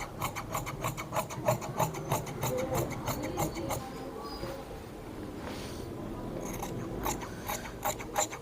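Scissors snipping through the front panel of fabric for a men's pocket trouser, a close, steady run of rhythmic rasping cuts with a short pause near the middle.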